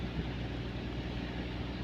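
Cargo boat engine revving on a rainy day, a steady loud low rumble with a dense wash of noise over it, constant throughout with no voices.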